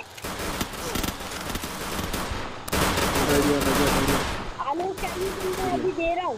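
Rapid gunfire in the Free Fire Clash Squad mode on the Bermuda map, dense bursts of shots with a louder volley in the middle, mixed with game effects and someone talking over it.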